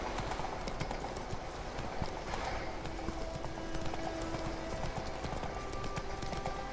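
A horse's hooves clip-clop at a steady walking rhythm in The Witcher 3: Wild Hunt, under constant game ambience and music, with no talking.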